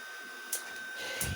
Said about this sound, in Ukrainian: потім старт Detecting натискаєш і все, і пішла процедура